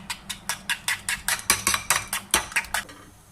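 Eggs and milk whisked in a bowl, about fifteen quick, evenly spaced clinks of utensil against the bowl, close and crisp, slowing and stopping near the end with no talking.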